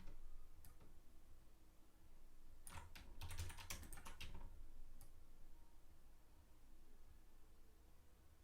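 A computer keyboard being tapped through copy and paste shortcuts: a few isolated clicks, then a tight cluster of rapid keystrokes near the middle, followed by a lone click, all close and crisp over a steady low room hum.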